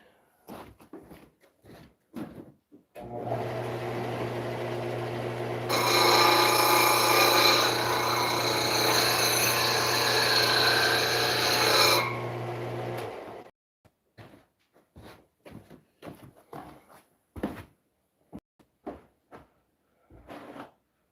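A bolt gouge for woodturning being sharpened on a grinder, a sustained whirring grind lasting about ten seconds that swells louder midway, framed by scattered knocks and handling clatter before and after.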